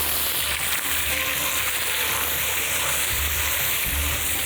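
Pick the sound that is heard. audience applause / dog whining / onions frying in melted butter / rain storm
onions frying in melted butter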